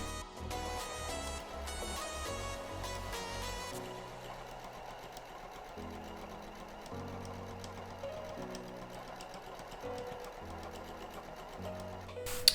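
A sewing machine topstitches fabric for a portable baby changing mat. Close, steady mechanical stitching runs in several bursts with short pauses between them, and no one speaks.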